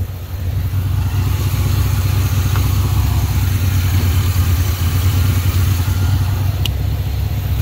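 1980 Pontiac Trans Am Turbo engine idling steadily after sitting for 18 years, a constant low rumble with a faint clatter, close and unbroken.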